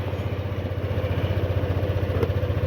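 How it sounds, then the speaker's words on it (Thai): A Yamaha Lexi 125 scooter engine idles after a remote start, giving a steady, close, rhythmic low putter with even pulses throughout and no talking. "ถ้าเกิดเราสั่งสตาร์ทรถด้วยรีโมทนะครับ"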